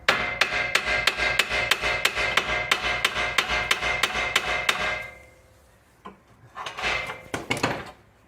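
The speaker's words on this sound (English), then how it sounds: "a hammer just to cause some vibrations on the other side" A hammer strikes the steering knuckle of a Subaru Outback to free the lower ball joint, about fifteen sharp metallic blows in a fast even rhythm for five seconds, then a pause and a few more clanks.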